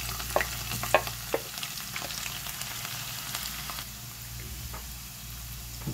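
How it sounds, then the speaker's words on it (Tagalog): Garlic sizzles steadily in hot cooking oil, with a few sharp pops and clinks of a utensil near the start over a constant frying hiss. "dahil mainit na yung mantika ay ilalagay na natin yung bawang"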